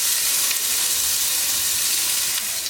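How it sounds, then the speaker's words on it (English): Beef sizzling hard in hot oil in a pan, a dense, steady frying hiss that runs without a break, close and fairly loud, with no voices. "we'll go ahead and get started by searing our meat now that our oil's heated up"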